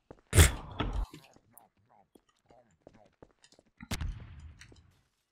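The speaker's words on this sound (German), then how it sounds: "Das war eine Explosion." Two heavy booming explosions in Garry's Mod, one near the start and another a few seconds later, separated by quiet clicks and faint scattered sounds.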